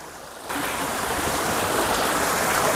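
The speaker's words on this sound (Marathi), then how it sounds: "पाणी बघा नॅचरल शेतातला पाणी" Water rushes through a farm field in a steady, broadband roar that swells up abruptly after a brief quieter moment and continues loud and close.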